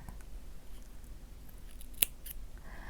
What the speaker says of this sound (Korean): 약간의 여유를 남기고 실을 잘라줍니다